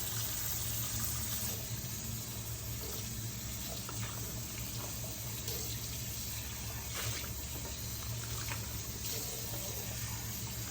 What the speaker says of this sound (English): now I gotta scrub this one again because I just threw it in a dirty sink.